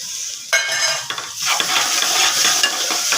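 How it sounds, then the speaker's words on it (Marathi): Green masala paste sautéed and stirred in a pan for a potato curry, a steady sizzle with stirring scrapes and clinks on top, close and fairly loud throughout, no talking. "हिरवं वाटण थोडं परतून घ्यायचं।"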